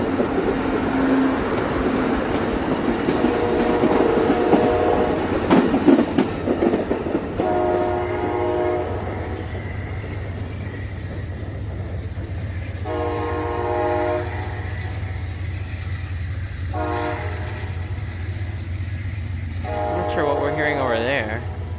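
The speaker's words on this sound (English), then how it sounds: "Sounds like a freight train is going past over there or something." A freight train rolls past in Danville, a steady low rumble of wagons with intermittent horn blasts sounding somewhat distant, continuing throughout the stretch.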